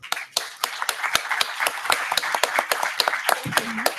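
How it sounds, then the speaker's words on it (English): An audience at a climate and land-use forum applauds its panelists: a modest group's distinct, fairly sparse claps ringing out at close range, with a brief bit of background talk near the end. "I would like you join me in applauding to our panelists."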